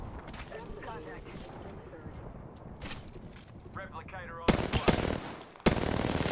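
Rapid automatic gunfire in a battle royale shooter, bursts of loud, close shots rattling out in strings, with mechanical clatter and a player talking over parts of the action.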